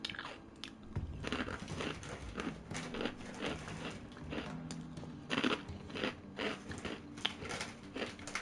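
Close crunching of a crunchy snack being eaten, a run of irregular crisp bites and chews that come in uneven bursts, with no voice over them.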